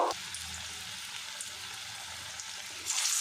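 Green banana and lentil fritters sizzle in hot oil, a steady close frying hiss that runs alone throughout with slight swelling at the end.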